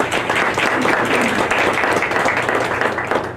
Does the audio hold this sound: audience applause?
yes